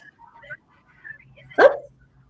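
A single short dog bark or yip sounds once, loud and close, over faint background chatter and a low steady hum during a virtual party call.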